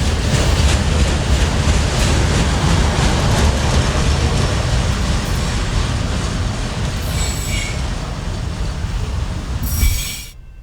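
A CSX freight train rolls past loudly and close at Waycross, wheels clattering and squealing in a dense roar that gradually eases, with sharp metallic screeches near the end.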